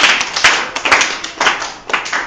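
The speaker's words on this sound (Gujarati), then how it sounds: "આપણે તાળીઓથી વધાવીએ।" A group claps to welcome a teacher at a school quiz event in Jamnagar district, with quick, uneven bursts of hand claps, close and loud.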